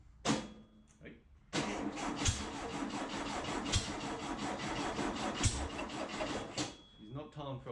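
A junkyard VW Beetle engine cranks over and tries to catch, a loud, continuous churning with uneven sputtering bursts close by, briefly interrupted before cranking resumes; voices speak around it.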